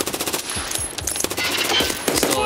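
Rapid automatic gunfire in the shooter game Escape From Tarkov, close and loud, with bursts of overlapping shots rattling across a couple of seconds.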